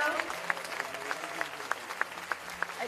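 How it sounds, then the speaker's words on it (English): An audience applauds for the founder and principal of CP Goenka International School in Thane, a steady wash of many hands clapping indoors with a few sharper claps standing out, continuous across the short stretch. "the claps are saying it all"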